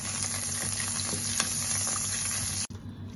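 Oil and butter sizzle and crackle in a hot frying pan, a steady close-up hiss with small pops and stirring scrapes, cut off abruptly near the end.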